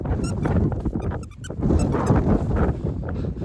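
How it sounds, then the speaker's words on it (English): Strong, gusty wind buffets the microphone on a mountain summit in spring, a loud and constant roar with no clear talk. "They probably can't hear us because of the wind."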